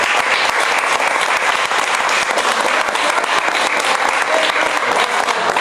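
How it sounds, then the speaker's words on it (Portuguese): A church congregation at a youth worship service applauds in a loud, continuous roar of clapping, many hands together at a steady, dense level without pause. "vou pedir para você fazer um gesto simples, mas que se você for grato, você vai fazer, que é aplaudir Jesus"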